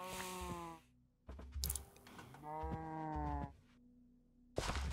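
Cows in the video game Minecraft moo twice in long, tonal calls, close and clear, separated by quiet gaps and short clattering game noises.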